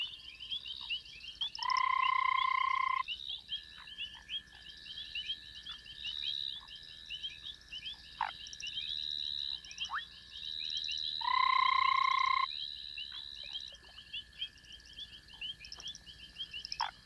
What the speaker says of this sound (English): In a tree over the pond, a pair of foam frogs are making their nest.